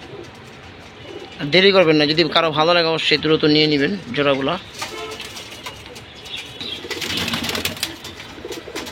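Red patti and silver pigeons kept for sale coo and shuffle while someone talks over them, followed by a noisier stretch of fluttering and movement.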